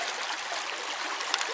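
A small creek flows steadily on New Year's Eve, its broad hiss of running water close and continuous with a faint splash near the end.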